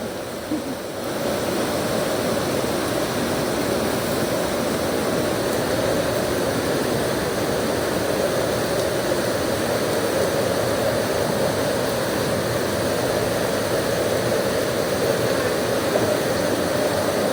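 Steady rushing and sloshing of river water near Tilhar Kund as someone wades through it, a dense, close, continuous wash of noise with no talking.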